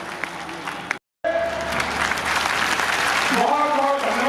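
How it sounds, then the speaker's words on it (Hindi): A crowd at a public foundation-stone ceremony applauds to welcome the chief minister, steady, dense clapping with a brief cut near the start, loud and continuous, with a voice speaking over it. "तालियों की गड़गड़ाहट के साथ माननीय मुख्यमंत्री जी का आप अभिवादन देने का काम करेंगे।"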